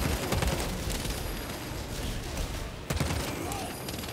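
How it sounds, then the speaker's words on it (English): An enemy minigun fires a continuous, roaring stream of rounds in Warhammer 40K Space Marine 2 co-op combat, dense and loud, with a sharp impact partway through and chaotic battle noise throughout. "He's got a minigun too."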